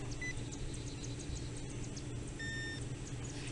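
A metal detector sounds a high tone over a buried copper coin while out detecting for coins and silver, with a couple of short beeps rising above steady low outdoor rumble.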